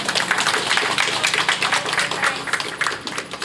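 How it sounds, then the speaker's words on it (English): A school audience at a 75th Independence Day celebration at Corner Stone High School in Karaswada, Mapusa, claps steadily to welcome the chief guest, a dense, sustained round of applause that rises and eases slightly toward the end. "Let us welcome our chief guest with a loud applause."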